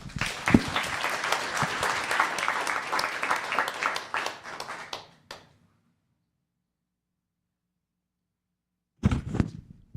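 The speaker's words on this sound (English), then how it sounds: "All right, round of applause." A room at a town council meeting breaks into a round of applause, dense clapping from many people that fades out after about five seconds, then falls silent before a brief burst of noise.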